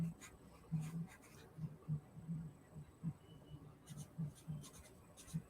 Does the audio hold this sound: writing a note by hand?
yes